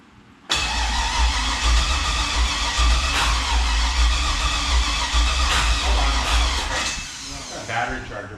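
A turbocharged 5.3 LS V8 in a Mustang build cranks over loudly and steadily for about seven seconds, a dense mechanical churn that eases off near the end, with no voices over it.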